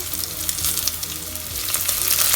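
Crushed small shallots and rock salt hit hot oil where mustard and fenugreek seeds have finished popping, for a sardine chilli curry. A loud, steady crackling sizzle with faint stirring scrapes runs throughout.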